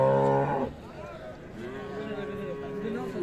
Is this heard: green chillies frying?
no